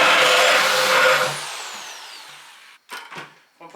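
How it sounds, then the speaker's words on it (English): A loud, grinding power-drill whine as a 3 1/8 inch hole saw cuts through a plastic bucket for about two seconds, then winds down and fades; a voice speaks briefly afterward. "you have to have a 3 1/8 inch hole saw"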